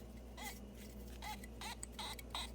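A worn water pump removed from a 2011 Audi S5 4.2L squeaks faintly as it is turned by hand, a handful of short high chirps spaced irregularly over a low steady hum.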